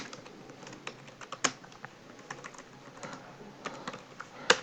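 Computer keyboard typing during web form coding work, a quick irregular run of light key clicks with a few harder taps, close and on its own.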